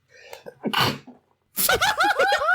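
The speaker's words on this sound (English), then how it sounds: "She's so overwhelmed, she sneezes." A woman gives a short sneeze up close, followed after a brief pause by bursts of laughter from several people.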